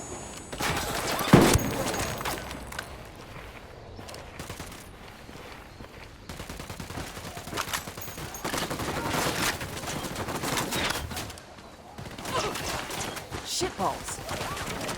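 Repeated bursts of automatic gunfire from Ghost Recon Wildlands fill the stretch, dense volleys with one sharp loud shot near the start, and speech mixed in throughout.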